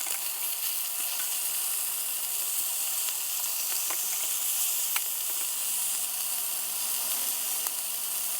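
Meat browning in a pot ahead of pressure cooking, a steady broad sizzle and hiss with faint scattered pops throughout, moderately quiet and uninterrupted.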